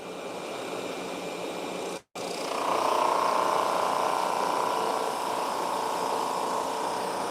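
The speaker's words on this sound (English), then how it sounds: "I've never run a drum sander before, so I'm learning as I go" A drum sander runs a wooden cutting board through with a loud, steady whirring roar, briefly cut off near the start before a strong, sustained grinding drone resumes.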